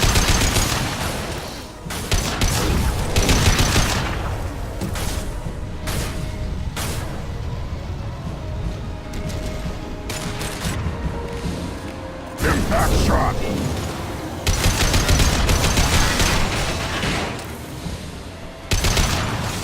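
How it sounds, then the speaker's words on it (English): Sustained heavy gunfire rattles through a firefight in the sci-fi shooter Mass Effect 2, with dense bursts and booming hits alongside whooshing effects, and voices speaking over the battle. "taking heavy fire."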